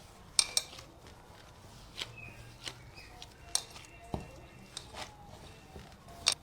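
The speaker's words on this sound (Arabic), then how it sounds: "فتعالوا نقلب بقى كده المكونات مع بعض." Ground pistachio is mixed with ghraybeh cookie ingredients in a bowl, with a spoon knocking and scraping in sharp, scattered clicks and taps over a quiet background, close up.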